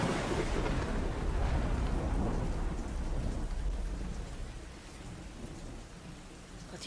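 Heavy rain pours steadily with deep rolling thunder underneath, a dense, loud, continuous storm roar that eases slightly toward the end.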